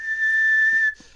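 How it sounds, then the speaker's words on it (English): A single shrill whistle blast sounds close and loud, held steady for almost a second before cutting off, followed by a brief faint tail of tone. "Should we blow the whistle?"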